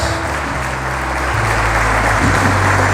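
Church congregation applauding together at a worship service, a steady, dense wash of clapping that fills the whole clip at close range with no break.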